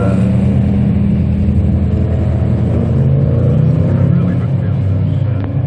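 Steady roar of Italian classic racing cars circling a track at the Winton Festival of Speed, engines droning continuously at a distance with no clear gaps.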